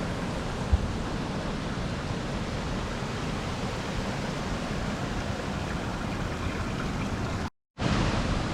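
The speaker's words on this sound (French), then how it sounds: "On va boire avec le bruit de la cascade." Waterfall near Gelmersee, Switzerland, a steady broadband rush of falling water heard alone and unchanging, with one brief dropout near the end.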